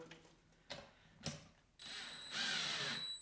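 Two short mechanical bursts, then a power drill on its lowest setting whirs up and runs steadily tightening nuts on a MATCO 6-inch split wheel, its pitch climbing as it tightens; fairly quiet and close.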